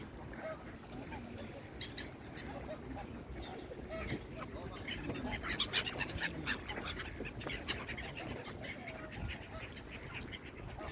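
Ducks and geese call at a lake in Tarnfield Park, Yeadon Tarn, with scattered quacks and honks at moderate distance over outdoor ambience, and a person speaking throughout.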